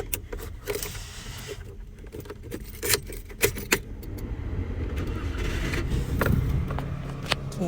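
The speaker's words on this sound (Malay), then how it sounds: "kita nak start enjin pakai kunci." Keys jangle and click inside a Perodua Bezza 1.0 G automatic sedan as the key goes into the ignition. Close, sharp metallic taps are followed by a steadier rumbling car hum building toward the end.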